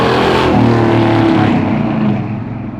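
A Destroyer Grey Dodge Charger with a Hemi V8 pulls away under load, its engine roaring loud and close before easing off and fading toward the end.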